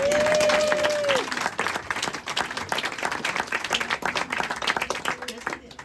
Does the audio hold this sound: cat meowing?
no